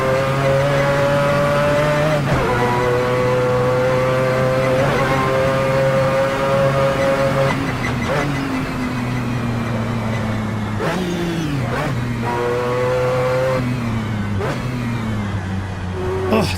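Mazda 787B race car in Assetto Corsa screams with a high, buzzing rotary engine note, revving up and down through repeated gear shifts, loud and close, with a voice briefly heard.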